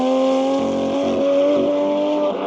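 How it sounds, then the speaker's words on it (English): A Porsche GT3 RS race car roars past on a track, a loud, close, sustained engine note with a rising and falling tone and slight shifts in pitch as it goes by. "Sounds like an old RSR."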